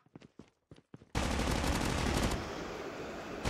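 Gunfire from a PDW in Call of Duty Mobile battle royale: a few soft footsteps, then a sudden sustained burst of rapid automatic shots, loud and close, continuing to the end.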